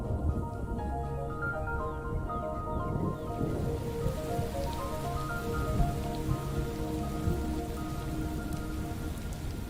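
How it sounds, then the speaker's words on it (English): Heavy rain arrives on the African savannah, a dense loud patter of drops with low rumbling beneath and other tonal sounds fading in and out in the background, continuous throughout, no voices. "Coinciding with Kit's departure is the coming of the rains."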